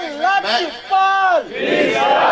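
A crowd at a Qadri religious gathering loudly chants a devotional slogan in unison, with sustained sung-out calls rising and falling in two long bursts followed by a noisier roar.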